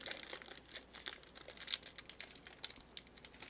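A crinkly sealed trading card pack wrapper is worked at and torn open up close, giving a run of quiet, irregular plastic crackles and crunches with no voices.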